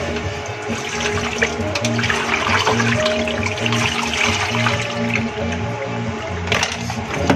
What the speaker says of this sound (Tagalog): Lagyan ulit natin ng tubig at hugasan.